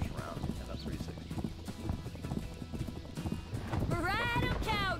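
Horse hooves clip-clop steadily in the Hannah Montana: The Movie video game, a quick close rhythm running throughout, with a brief whinny-like cry near the end.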